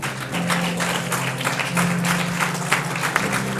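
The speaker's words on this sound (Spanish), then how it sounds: "Dele un aplauso ahí al Señor" A church congregation claps in sustained, dense applause, with a low hum or organ tone underneath.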